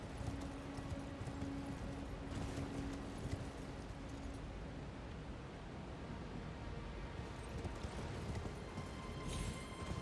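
Horse hooves clip-clop steadily through Elden Ring, the game's galloping mount pounding at a constant close pace under a dense wash of ambient game noise, with no talking.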